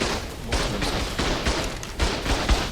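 Auto turrets in the survival game Ark, a PvP base fight, fire in steady repeated bursts of gunfire, loud and continuous for a few seconds with no talk.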